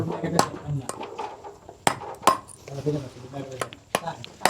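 A wooden stake is driven into the ground with sharp, irregular hammer blows, about five distinct knocks spread over a few seconds, heard close up with people talking in between.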